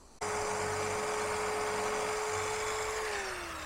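A power drill bores through metal while fitting a new lock on a vintage Boler camper trailer, starting abruptly with a steady high whine that holds close and loud, then drops in pitch near the end.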